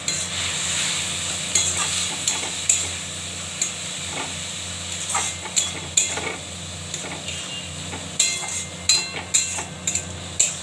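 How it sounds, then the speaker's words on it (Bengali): Colocasia greens with salt and turmeric frying in a pan while being stirred, a constant sizzle punctuated by repeated scraping and clinking taps of the utensil against the pan, growing more frequent toward the end. "এবার নাড়বো।"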